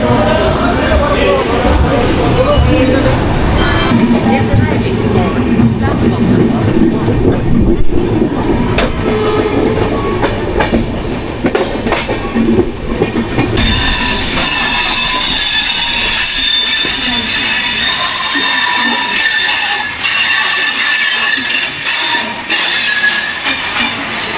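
Purabiya Express train passing at Moradabad Junction, a loud continuous rumble of rolling wagons with wheel clatter and occasional squeal, a brighter rushing roar building in the second half, with voices talking over it.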